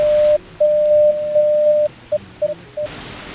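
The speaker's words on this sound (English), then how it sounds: "it's meant to be Morse code" A steady, loud beeping tone from a Morse code sound effect in a Godot-made jam game plays alone, with long and short dashes and dots at a fixed pitch.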